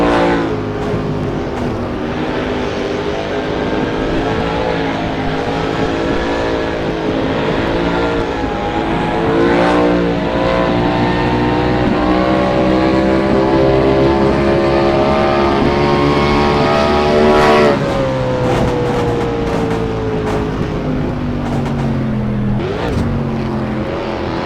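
Race car engine in a NR2003 racing video game, heard from the cockpit with transmission whine, a loud sustained roar whose pitch climbs and shifts through gear changes, with no one talking.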